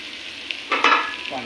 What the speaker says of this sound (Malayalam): അപ്പം ഇനി നല്ലോണം ഇളക്കി കൊടുക്കുക